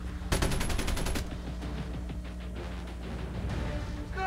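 Gunfire during a kill cam replay in Call of Duty Mobile: a quick burst of rapid shots opens, followed by scattered fainter game sounds under a low background drone, without speech.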